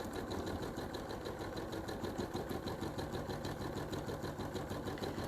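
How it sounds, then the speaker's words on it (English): A sewing machine stitches down a quilt panel seam with a steady, fast, even mechanical whir and rapid needle rhythm that runs unbroken throughout at close range. "Okay, so I am going to sew down this seam."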